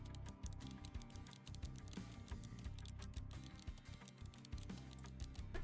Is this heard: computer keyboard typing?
yes